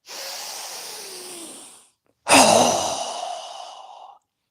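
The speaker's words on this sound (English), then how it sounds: "Strong exhale" Two strong breaths during yoga breathing, a long airy breath followed after a short gap by a louder forceful exhale, close and clear with no talk.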